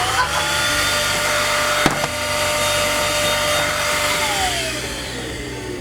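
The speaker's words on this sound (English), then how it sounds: "I'd like to take this time to thank Dyson for sending me this vacuum." A Dyson vacuum cleaner runs with a steady, loud motor whine and airflow hiss, holding a constant drone throughout, with a brief sharp click partway through.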